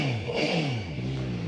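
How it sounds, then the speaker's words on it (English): A VOGE RR 500 S motorcycle engine revs high in first gear, a close, loud, smooth rising and falling roar with no talking. "I'll shift into first gear. Let's check the high revs."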